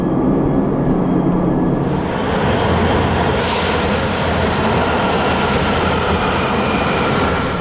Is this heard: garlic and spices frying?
no